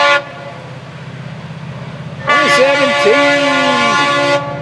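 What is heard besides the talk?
train passing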